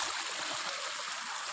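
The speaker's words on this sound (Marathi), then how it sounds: "ते उपलटीचं पाणी असं येत आहे, तुम्ही पाहू शकता इथे" Spring water flowing out across a field in the Konkan countryside, a soft, steady trickling and gurgling heard close and alone.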